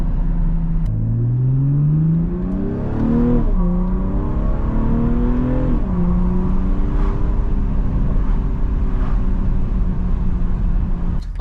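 A BMW M340i accelerates hard, its engine note climbing steadily through the gears with brief dips at each shift, loud and continuous from inside the car.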